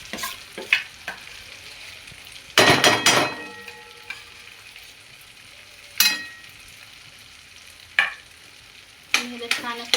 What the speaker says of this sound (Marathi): छान असं फिरून घेणार.